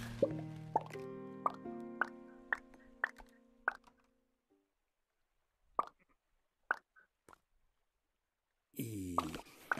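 Soft plopping pops ring out as building blocks snap into place in the video game Townscaper VR, a quick run of evenly spaced tonal blips, then a pause, a few more scattered plops, and a dense cluster at the end.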